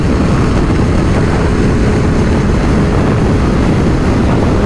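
Riding either a 2024 BMW M1000 XR or a 2024 Ducati Multistrada V4 RS, a dense, steady engine roar mixed with wind rush, loud and constant throughout with no voices.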